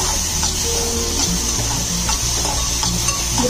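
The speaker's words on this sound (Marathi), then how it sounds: "Broccoli, mushroom. आणि आपण थोडंसं मिक्स करून घेऊया," Broccoli and mushrooms being stir-fried in a hot pan, with a constant close sizzle and repeated scraping and stirring strokes throughout.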